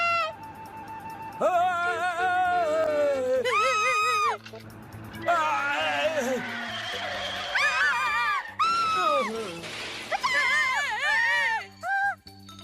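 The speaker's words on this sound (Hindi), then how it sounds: "ये कौन चिल्ला रहा है?" Shrill, wavering cartoon screams from the Hindi-dubbed Ninja Hattori animated series come in several loud bursts, rising and falling in pitch, over a busy music-and-effects bed.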